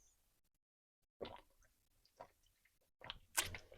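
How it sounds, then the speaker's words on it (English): Someone drinks water up close, quiet gulps, sips and wet mouth sounds coming in a few short bursts that are separated by brief silences. "Sorry, drinking some water."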